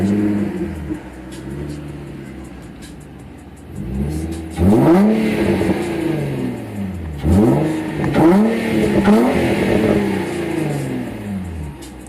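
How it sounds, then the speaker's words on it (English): Infiniti G35 fitted with a Motordyne exhaust, revved several times in succession, each throttle blip rising to a loud, close, raspy exhaust roar before falling back to idle, with no talking. "let's hear the exhaust"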